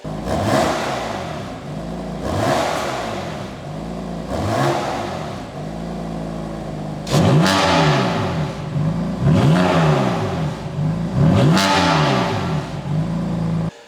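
A BMW F82 M4 on its factory exhaust revs repeatedly, about six rising-and-falling engine sweeps in a steady rhythm, up close and fairly loud.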